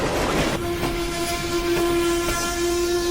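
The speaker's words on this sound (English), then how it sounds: "The giant iron engine skidded past the lantern wheels, screeching as steel slid across steel" An iron train engine rolls loudly and continuously on steel rails, with a sustained high metallic squeal of steel on steel riding over the rumble and rhythmic clatter, close and with no voices.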